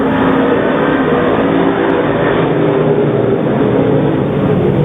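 Street stock race cars racing at Grays Harbor Raceway, with a continuous loud engine roar from several cars at once and no break in the noise.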